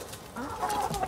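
Backyard chickens chirp and cluck in short bursts close by, with bird calls rising and falling over a soft outdoor background.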